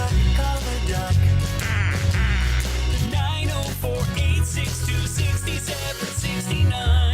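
Duck quacks used as a sound effect in a plumbing company's radio ad, set over a busy, loud music bed with repeated quacking bursts.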